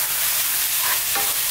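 Fresh tomatoes dropped into a hot pan over medium-high heat for meatloaf, giving a loud continuous hiss and sizzle with a brief splash and stir partway through.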